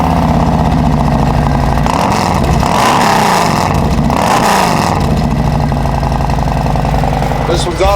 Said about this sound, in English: this one's got the D&D 2-in-1 Fat Cat exhaust.